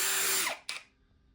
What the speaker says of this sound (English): we're going to drill straight through those 2 pilot holes that we drilled